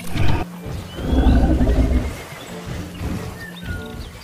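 A toy mammoth lets out electronic roaring and trumpeting bursts, loud and close, with a sharp opening cry and a longer rumbling roar after it.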